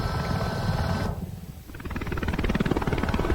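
Steady helicopter engine and rotor drone in Microsoft Flight Simulator 2024, loud and continuous, briefly dipping and thinning before the pulsing rotor beat comes back stronger, with no voices.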